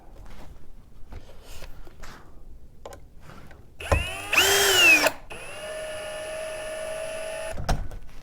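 Cordless power drill driving screws into a wooden rocker during furniture assembly, a few short bursts and one longer whirring run up close, followed by a steady high motor whine, with light handling noises between.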